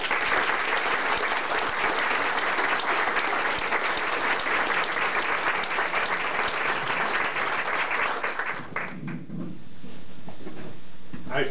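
Audience applause welcoming lecturer Dr. Metod Milač at an evening lecture in Cleveland, a dense, steady crowd clapping that fills the room for about eight seconds before stopping abruptly into near silence.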